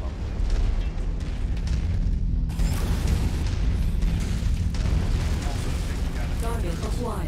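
Explosions of destroyed targets in MechWarrior 5 Mercenaries, heavy rumbling blasts and booming impacts running continuously, loud and dense, with battle mechanisms and creaks layered underneath.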